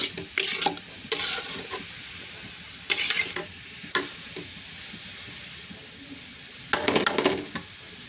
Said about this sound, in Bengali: এখন নাড়া দেবো, একটু করে নামিয়ে নেব, তাহলে আমার শাক রান্না শেষ।